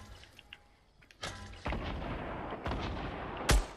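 Grenades explode in the Fortnite video game, with several muffled blasts and rumbling booms of moderate loudness, ending in one sharper, louder explosion.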